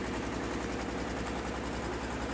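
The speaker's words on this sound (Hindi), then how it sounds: "यहाँ पे इंजन लगा हुआ है 22 एचपी का" A 22 HP engine drives an oil expeller through a line shaft, giving a steady low rumbling drone with a faint regular pulse, continuous and moderately loud with no speech.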